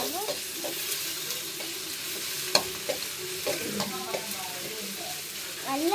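Ginger garlic paste sizzles in a hot pan, a constant close fry broken by scraping stirs and clicks of a utensil against the pan.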